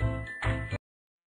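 Notification bell chime sound effect, two quick bright jingling rings close together that cut off cleanly into silence.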